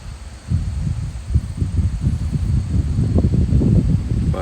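Wind blows at a lakeside, a steady rough low rumble with gusty fluctuations buffeting close by, no voices.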